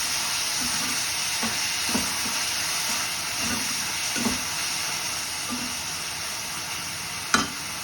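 Eggplant with spices and asafoetida sautéing in a pan, a steady close sizzle with occasional soft clinks and scrapes of stirring.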